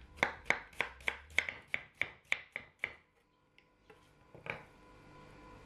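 A knife thinly slices a halved, peeled onion on a board: about eleven crisp, evenly spaced chops in quick rhythm, then a pause and a couple of softer knocks, close and clear with no talking.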